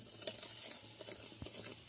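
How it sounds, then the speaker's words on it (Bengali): Lentils stirred in a pan with ghee for a vegetarian dal, giving soft scraping stir strokes with a low sizzle over about two seconds and one brief louder clink. "ডালটা আমি নেড়ে ছেড়ে ভালো করে একটু ভেজে নেব।"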